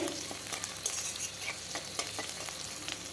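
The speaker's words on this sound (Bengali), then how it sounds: "তেজপাতা আর সামান্য একটু পেঁয়াজ দিয়ে দিলাম দিয়ে ভালোভাবে ভেজে নেব" Bay leaves and a little onion fry in oil alongside dried red chilli, making a dense, even crackling sizzle. Occasional soft ticks of stirring sit beneath it, close and moderately quiet, with no talk.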